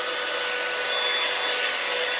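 A T3 blow dryer runs continuously and steadily, a close, even hiss-and-whir with no change in pitch and no voices.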